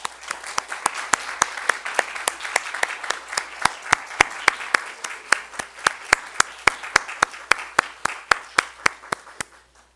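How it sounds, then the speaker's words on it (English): Audience applause for guest performers and volunteers at an autumn equinox community celebration, a thinning round of distinct claps at moderate distance, sparse and regular, trailing off at the end. "Let's have a final round of applause for our guest performers and"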